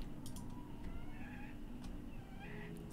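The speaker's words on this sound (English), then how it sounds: "My cat is being ridiculous, I apologize" A pet cat meows indoors, faint and close, a few short rising cries scattered over low background hum.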